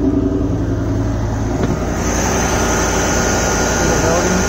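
An LS-swapped Toyota crawler idles steadily at around 1250 RPM, a loud, continuous engine drone close by with a constant hum, and a higher whine rises partway through.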